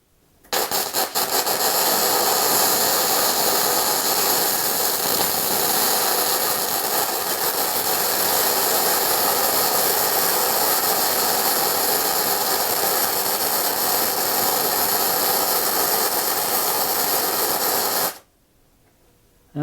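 A Vevor 3-in-1 MIG welder lays a bead, giving a loud, steady crackling, frying hiss heard up close that runs unbroken for most of the clip before stopping abruptly.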